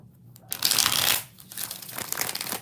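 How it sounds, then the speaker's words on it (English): Tarot cards are shuffled by hand during a live reading, two bursts of close riffling and papery shuffling separated by a short pause, with no talk. "3 more shuffles."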